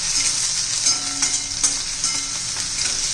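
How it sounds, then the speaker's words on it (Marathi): Onion sautéing in hot oil in a home kitchen, a steady bright sizzle throughout with faint stirring scrapes, close and even, no voices. "तेल आपलं आता गरम झालेलं आहे कांदा घालून घेऊया चांगला परतून घेऊया"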